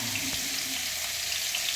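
Green chillies frying in hot oil in a village kitchen give a steady, close sizzle and crackle with a brief stir or clink near the start, no voices over it.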